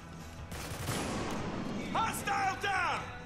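Gunfire rattles in the third-person shooter Spec Ops: The Line, loud bursts of shots in a firefight with someone speaking over them.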